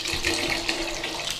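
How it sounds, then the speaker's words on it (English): Water pours steadily into a pan of dried peas for mushy peas, a continuous close splashing rush. "we need to put some water in there."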